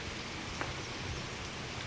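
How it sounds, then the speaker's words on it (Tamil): Steady rain falls on a farm field, a dense even hiss with scattered soft drops, holding at a constant moderate level with no voices. "மழை லைட்டாக ஸ்பீடாகுதுங்க"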